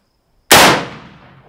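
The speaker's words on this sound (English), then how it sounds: "3 shots, large rifle primers, 45-70, 44 grains, RL7, 405 grain, hard cast gas checked." A single sharp, loud rifle shot from a 45-70 loaded with a large rifle primer, 44 grains of RL7 and a 405-grain hard cast gas-checked bullet, cracking suddenly out of silence and then decaying over about a second outdoors.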